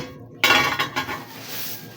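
A non-stick frying pan clatters loudly as it is handled during unboxing, with one sharp metallic knock followed by a few lighter clinks that fade out.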